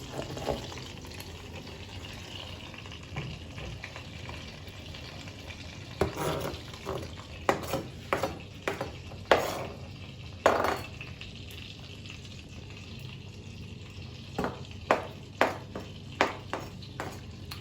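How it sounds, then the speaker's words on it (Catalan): Garlic and onion fry in a pan on reduced heat: a low background sizzle, then a series of distinct scraping stirs and clinks against the pan, close by. "ja fa xup, xup, xup, i tirarem l'all i la ceba"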